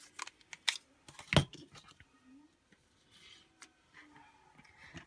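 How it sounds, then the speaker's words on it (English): Scissors cut wallpaper for a handmade journal cover, giving a few sharp snips and crisp paper rustles, one louder snip standing out amid quieter handling noises in a quiet room. "Get my scissors."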